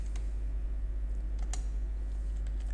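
Computer keyboard keys tapped in short irregular bursts while writing JavaScript code, close and fairly quiet over a steady low hum, with no one talking.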